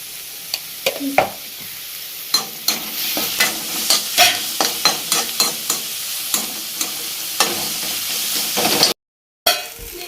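Vegetable rice with carrots being stirred in a pan, a spoon scraping in a steady series of close, distinct strokes over a soft sizzle, with no talking.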